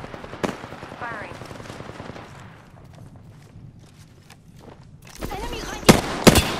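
Gunfire in the Apex Legends video game: a sharp shot early on, a quieter stretch, then a loud cluster of rapid bursts near the end, with faint voices in between.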